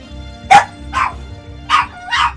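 Four loud, close dog barks arrive one at a time with short pauses between them, over a low background hum.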